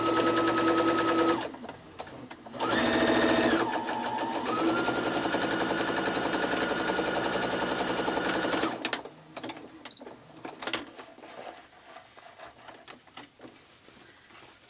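A sewing machine runs a quilt seam on scrappy patchwork with fusible watercolor grid, loud and close in bursts: a short run, a pause, then a long steady stretch before it stops into light handling noises.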